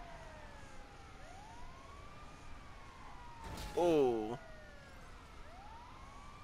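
An ambulance siren in Grand Theft Auto V rises in a short, loud wailing burst midway, over steady driving and engine noise, with a voice briefly speaking.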